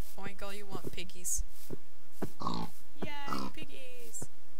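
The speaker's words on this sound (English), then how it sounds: "Oink, all you want, piggies." Pigs in a video game oink and grunt in short bursts, several snorts spread through the stretch among game sounds, with players talking over them.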